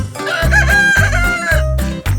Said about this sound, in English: What sound does a rooster make?